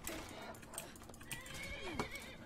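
A horse in Skyrim gives a neigh and whinny amid hoof clops and other game sounds, moderately loud over a busy background.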